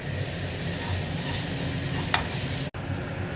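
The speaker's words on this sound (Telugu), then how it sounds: "రెండు కలిపి వేపుకుందాము." Almonds and flattened rice (poha) frying together in a pan, giving a steady soft sizzle with one brief scrape of stirring, then a sudden cut.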